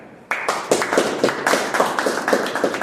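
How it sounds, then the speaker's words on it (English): Clapping at a Toastmasters meeting starts abruptly after a brief quiet moment, a few nearby hands giving a rhythmic round of distinct, close claps that continue to the end. "Please, with a round of applause, help me welcome Vinayak."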